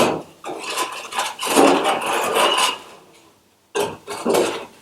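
Scraping, squeaking rubs and crunchy friction noises of styrofoam pieces being pushed and wedged into a window box, in bursts with a short pause near the end.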